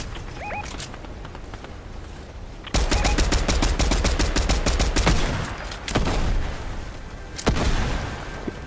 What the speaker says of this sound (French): Ça tire en face, hein.